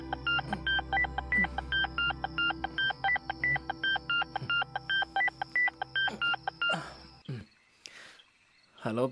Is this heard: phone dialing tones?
yes